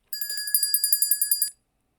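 A bell rung as the conditioned stimulus in a classical conditioning demonstration with a dog: a bright, rapid metallic trill of about a dozen quick strikes, close and clear, lasting around a second and a half before stopping into silence.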